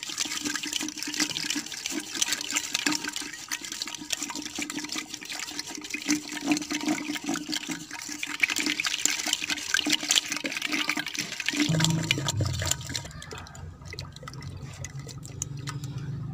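Yogurt being churned by hand into butter and lassi, a steady sloshing, swishing liquid sound that runs continuously and close, changing to a lower, wetter churn near the end, with no talking.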